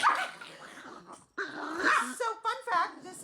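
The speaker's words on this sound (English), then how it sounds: "this is what happens when you have too many dogs on your lap and they all want to fight" Several small dogs scuffle on someone's lap, trading yips, growls and whimpers in quick bursts, close and lively, with a person's voice mixed in.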